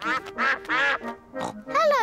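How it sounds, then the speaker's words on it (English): Cartoon ducks quack on a frozen pond in a children's animated series, several voiced quacks in quick bursts, loud and close, with no talk between them. "Let's feed some bread to the ducks."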